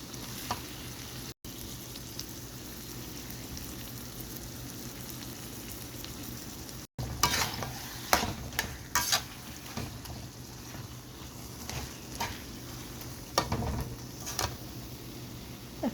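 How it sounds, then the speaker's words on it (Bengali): Steady sizzle of prawns frying in a pan, with bursts of scraping and clattering as a utensil stirs them in the second half. "চিংড়ি মাছ ভাজা দিয়ে দিয়েছি এখন খুব ভালো করে মিশিয়ে"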